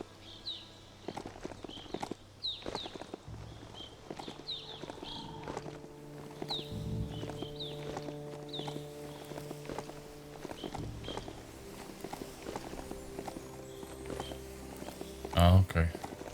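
In the video game Biomutant, a ridden horse's hooves clip-clop in a steady rhythm, moderately loud beneath game music and ambient sound, with a few heavier footfalls near the end.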